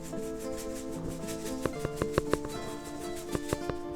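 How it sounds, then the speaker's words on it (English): Coarse kosher salt rubbed onto pork chops makes a close, soft gritty scraping, with a few sharp crisp ticks of salt grains landing and rubbing against the meat. "let's put a little salt on, the coarse kosher salt."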